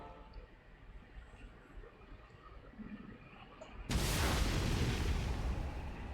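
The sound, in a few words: explosion in Xenoblade Chronicles 2, video game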